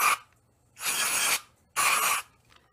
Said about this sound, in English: I just hold the gun out so it's not getting on the table and spray out the inside